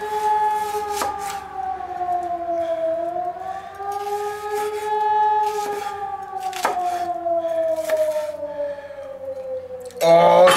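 A civil-defense siren wails steadily outdoors, its pitch slowly rising and falling, while onions are being chopped nearby and a few sharp knife taps on a board cut through the tone.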